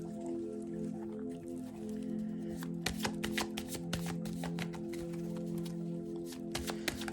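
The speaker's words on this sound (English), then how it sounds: "I'd rather just shuffle this on the side here." Tarot cards being shuffled off to one side, a dense run of quick papery riffles and soft flutters that grows busier after the first few seconds and continues steadily, close and fairly quiet, with no talking.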